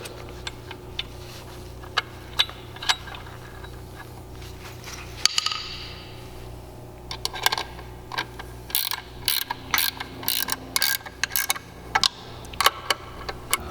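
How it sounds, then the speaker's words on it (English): Shot blast machine clamps are set back in place after a control cage adjustment, giving scattered metallic clicks, ratcheting and clanks close by, growing busier and sharper toward the end with no talking. "Okay, so we're going to put our clamps back in place."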